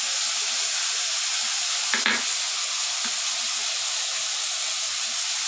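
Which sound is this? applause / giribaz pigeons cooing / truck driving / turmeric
turmeric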